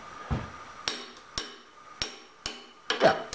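A hammer chips slag off a freshly laid steel weld in a workshop: about eight sharp metallic knocks at a fairly even pace, close and distinct with brief ringing tails.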